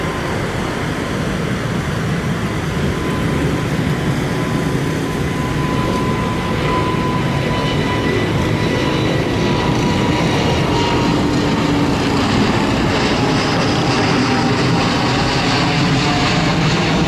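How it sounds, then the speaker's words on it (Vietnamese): A Vietnam Airlines Airbus A350-900 takes off from Tan Son Nhat airport in the rain. Its jet engines give a loud, continuous broadband roar that holds steady throughout, with no speech. "chúng ta sẽ thấy chiếc Airbus A350-900 của Vietnam Airlines cất cánh rời khỏi sân bay Tân Sơn Nhất"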